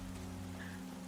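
Steady rain falling in the video game Goddess of Victory: NIKKE, a soft continuous patter over a low background hum, with no voices.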